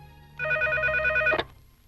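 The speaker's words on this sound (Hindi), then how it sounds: "रिंग हो रही है।" A telephone rings with a steady electronic trill for about one second, close and fairly loud, then cuts off abruptly with a click.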